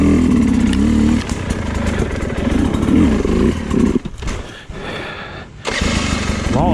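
Sherco dirt bike engine on the move at a demo day, a loud close raspy exhaust that drops and surges as the throttle is cut and reopened.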